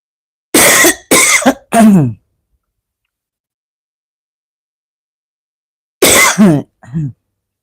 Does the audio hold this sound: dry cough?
yes